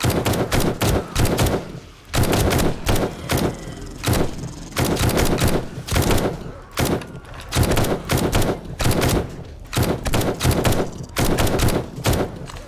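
Sustained bursts of 7.62 rifle fire in the survival game 7 Days To Die, loud and close, with rapid repeated shots in clusters separated by brief pauses.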